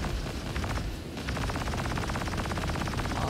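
A minigun fires in Star Citizen as a rapid, continuous mechanical burst of gunfire that holds loud and dense for about three seconds after a brief pause, with no voices.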